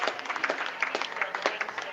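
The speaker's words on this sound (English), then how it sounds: "well-deserved round of applause from the opposition" Applause breaks out at an indoor skittles league match, a brief burst of steady clapping from a small crowd of teammates and opponents, fairly close, with some voices mixed in.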